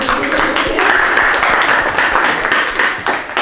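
An audience claps for a group of presenters, sustained dense applause that stays loud and even before thinning slightly near the end.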